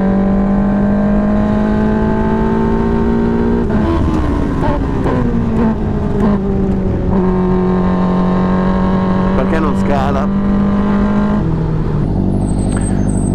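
A race car with a freshly installed engine runs slowly through a break-in session, its engine droning at low, shifting revs with gentle rises and dips, loud and close throughout.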